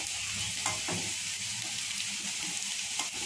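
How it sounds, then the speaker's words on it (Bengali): Sliced onions fry in a pan for a mixed vegetable curry of raw banana, potato, carrot and eggplant, sizzling steadily with a spatula scraping and stirring a few times, close up and with no talking. "পেঁয়াজটা একটু ভালো করে ভেজে নেবেন"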